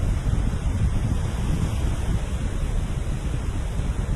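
Strong wind gusting at the seaside near parasailing boats: a loud, continuous low rumble of wind buffeting the microphone, with no voices.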